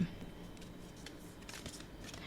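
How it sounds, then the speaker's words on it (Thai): Heart-shaped tarot cards rasp and slide against each other in a brief, close shuffle. "ไพ่อันนี้สับยากมาก เพราะมันเป็นรูปหัวใจ"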